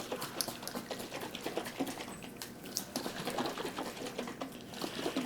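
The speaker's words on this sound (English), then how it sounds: "I'm just going to shake it a little bit to loosen things up again." A jar of homemade immune syrup is shaken by hand, making a soft continuous rattle and patter of liquid and loose contents sloshing against glass, quiet and close with no talking.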